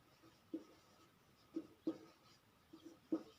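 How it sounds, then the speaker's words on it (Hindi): Marker or chalk strokes writing a Hindi sentence on a classroom board, four or five distinct scratchy strokes spaced irregularly, close and fairly quiet, with no one talking. "जैसे मैं इधर हिंदी का वाक्य लिखता हूं"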